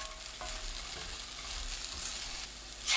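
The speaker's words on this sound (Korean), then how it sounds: "멸치, 청양고추 넣고 30초 볶습니다." Anchovies and cheongyang chili peppers stir-fry in oil with garlic over medium heat, giving a dense, bright, continuous sizzle with a few soft stirring scrapes, close and alone.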